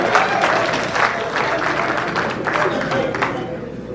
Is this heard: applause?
yes